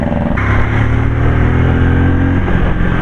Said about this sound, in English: I don't know whether you can hear the exhaust note as I am doing, because it's really nice.